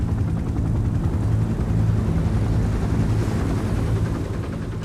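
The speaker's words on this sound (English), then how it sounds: "there's a scene where helicopters are like dropping huge chunks into the sea" Helicopters flying over the sea in a scene from the 2009 film Mr. Nobody, giving a loud, steady rotor drone that fills the whole stretch without letting up, with no voices.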